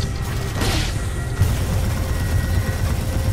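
A Titan firing on a dropship in a video game: a burst of heavy booming gunfire with mechanical clanks, loud and close over a dense rumbling battle background.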